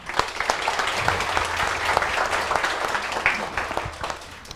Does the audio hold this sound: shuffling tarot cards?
no